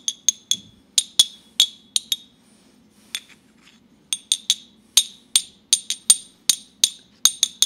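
Ancient bronze finger cymbals ring out in a rapid series of bright, high-pitched metallic clinks, struck lightly for a sweeter tone, close up with a short pause mid-way and no voices.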